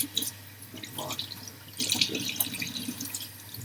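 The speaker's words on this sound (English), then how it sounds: "Good wash with warm water." Hands washed under warm running water at a sink, with a steady tap flow and uneven splashing and rubbing that grows busier partway through, with no talking.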